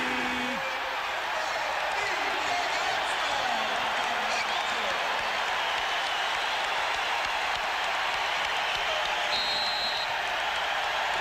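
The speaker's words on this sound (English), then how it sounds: "We'll let you enjoy the crowd in the stadium" Crowd in the Chicago Stadium at a 1991 NBA playoff game between the Knicks and Bulls roars steadily with cheering and applause, a broad, constant din from a large arena audience.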